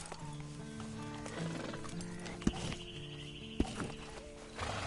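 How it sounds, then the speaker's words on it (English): Horse hooves clop and a horse whinnies in the Red Dead Redemption 2 video game, with two sharp thuds and a steady low game ambience underneath, fairly quiet overall. "And you better get on this horse."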